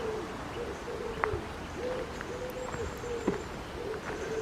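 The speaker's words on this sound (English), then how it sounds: "hopefully you can hear all the birds in the background" In a woodland near Crewe, birds call softly: a repeated low cooing hoot every second or so, with a few faint chirps and distant background hiss.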